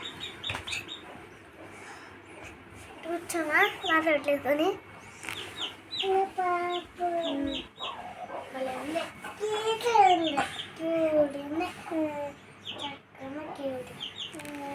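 Newborn chicks chirp and peep in quick, scattered high cheeps at close range, mixed with children talking throughout.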